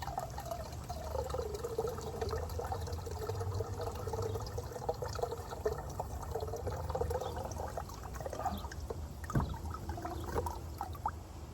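Water pours steadily from a one-gallon bottle into a van camper's water tank, a continuous gurgling flow with faint drips and small bumps, close by and without talk.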